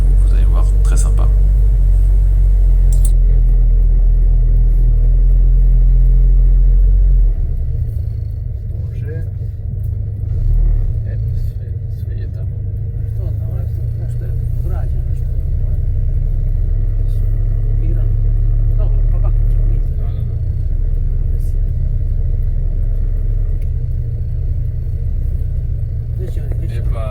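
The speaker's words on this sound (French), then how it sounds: "Magnifique cette voiture à l'intérieur, donc cette petite Fitia Zastava" Inside a small Zastava car on the road, a steady low engine rumble and road drone run continuously and loudly throughout, with people talking over it.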